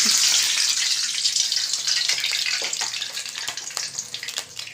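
Water poured into hot oil left from frying onions for biryani hisses and spits loudly at first, then the crackling sizzle gradually settles and fades, close up in a kitchen.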